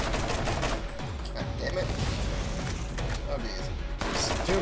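Gunfire at bandits in the Borderlands video game, a dense, continuous rattle of rapid shots throughout, loud and close, with a voice talking over parts of it.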